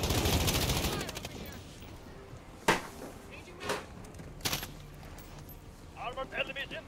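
Enemy gunfire in a shooter video game comes as a burst of rapid fire, then several sharp single shots spaced a second or so apart, with a quieter rattle of shots near the end and voices talking over it.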